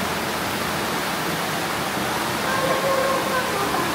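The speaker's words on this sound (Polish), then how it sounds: "To jest właśnie takie jacuzzi, dlatego tak gorąco." A hot tub jacuzzi churns and bubbles in a dense, continuous rush of water, loud and close, with no pauses.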